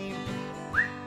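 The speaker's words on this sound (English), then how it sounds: "I whistle as I clean, till I'm clean as a whistle." A person whistles during a children's sing-along, a short rising whistled note sliding upward over a sustained tonal background, close and fairly clear.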